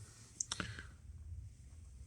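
A Sony FH-5 amplifier gives a quick cluster of faint mechanical clicks as its power button is pressed, then only a quiet room hum follows.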